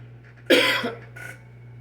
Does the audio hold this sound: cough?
yes